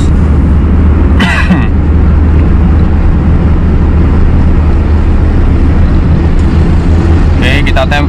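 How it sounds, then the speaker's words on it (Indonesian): Hyundai Atoz 2001 engine roaring loud and steady while accelerating hard on a toll road, with constant road and wind roar throughout and brief bursts of higher noise near the start and end. "Mesin mulai meraung."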